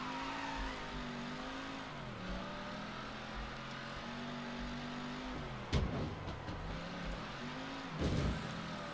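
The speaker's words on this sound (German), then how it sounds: "Die dreht immer mit den Reifen durch." Car engine revving with tires spinning and squealing during hard acceleration in the video game Mafia III, a sustained droning engine tone shifting pitch, with two sharp bursts of wheelspin noise near the end.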